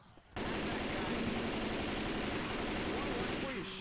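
Rapid automatic gunfire in a shooter video game set in an infected mall, a sudden loud continuous burst of fire that starts abruptly and runs unbroken for over three seconds.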